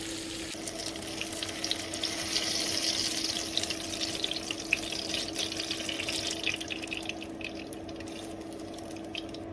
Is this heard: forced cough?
no